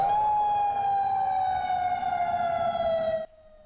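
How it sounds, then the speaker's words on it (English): An industrial warning siren in Montreal sounds a loud, steady wail with a slowly falling pitch, which cuts off abruptly near the end and leaves faint background noise. "Montreal will be testing its warning sirens tomorrow."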